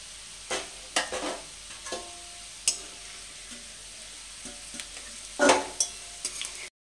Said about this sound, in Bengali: আলুগুলোকে ভালো করে ভেজে নেব। আলুগুলো ভাজা হয়ে গেছে